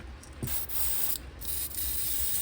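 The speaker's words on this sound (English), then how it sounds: "Spray it first, make sure it's coming out right." A steady airy hiss of an airbrush spraying chartreuse paint onto a custom fishing lure, continuous and fairly soft, with faint clicks and handling noises mixed in.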